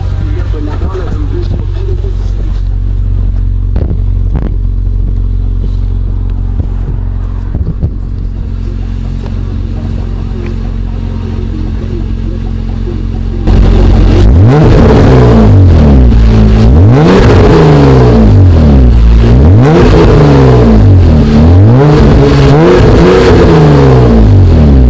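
An Acura TL / Honda Accord V6 with a newly installed engine mount driving, a steady cabin engine hum that rises sharply into loud repeated revving and accelerating surges in the second half.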